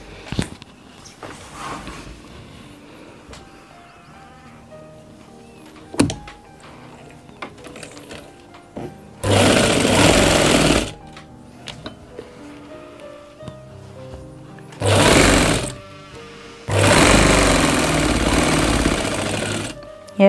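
Sewing machine stitching a gent's kurta, running in three loud sustained bursts of a few seconds each, with quieter handling clicks and fabric movement between runs.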